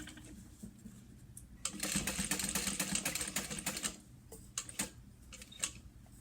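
Sewing machine stitching across the top of fabric with a backstitch, a rapid ticking mechanical whir in several bursts, the longest lasting about two seconds, with short stops and starts between, close and fairly quiet.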